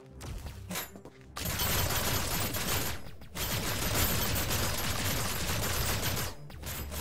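Dense, rapid gunfire from weapons in the Hostile Mars tower defence game, continuous volleys broken by two brief pauses, loud and close throughout.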